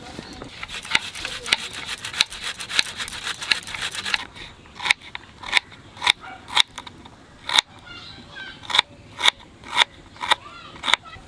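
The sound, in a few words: grating ginger and garlic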